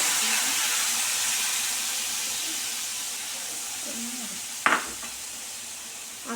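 Shahi paneer gravy frying in a pan gives a steady sizzle and hiss, and yogurt batter is poured in. A short stir or clatter comes near the end, with no talk.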